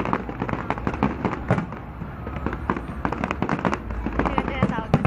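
Fireworks crackle and pop continuously in dense, rapid bursts at a pyromusical display, with people talking over the noise.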